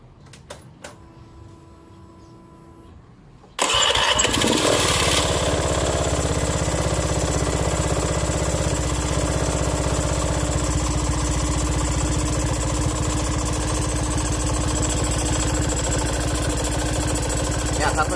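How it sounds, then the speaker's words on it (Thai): Honda Scoopy-i scooter with an engine that burns oil and puffs white smoke from the air box, fired up after a few seconds of quiet and then idling steadily and loudly up close with no one talking. "เดี๋ยวผมจะ สตาร์ทให้เห็นกันเลยให้เพื่อนๆสังเกตนะครับ"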